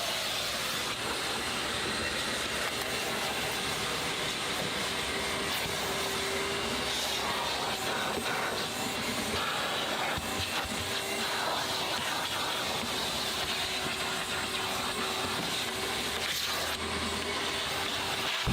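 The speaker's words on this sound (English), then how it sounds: "we do give the interior one last final vacuum" A vacuum cleaner runs steadily through a final pass over a car interior, a loud continuous hiss and roar with small shifts in pitch as the nozzle moves, and no voices.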